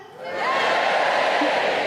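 A stand-up comedy audience cheering in a theatre, swelling from quiet into a loud, sustained collective roar of cheers and shouts that carries on to the end.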